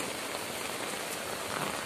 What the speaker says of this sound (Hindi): दो तीन दिन से बहुत ज्यादा भयंकर बारिश है